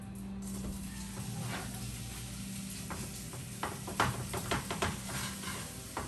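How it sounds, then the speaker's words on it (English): Butter sizzling in a pan at the start of a loose beef stroganoff, a steady close hiss running throughout, with a few clinks and scrapes of utensils toward the end. "that's butter's sizzling"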